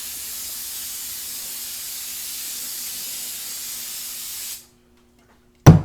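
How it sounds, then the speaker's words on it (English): A can of brake cleaner sprays a continuous hiss onto new brake rotors for a 2000 Tahoe, steady and close for several seconds before cutting off abruptly, followed by a sharp knock. "You should always take brake cleaner, spray it off, and clean it."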